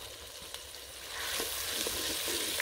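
Green chillies and softened tomatoes fry in a kadhai, a quiet steady sizzle that swells louder partway through, with light stirring scrapes and clinks close by.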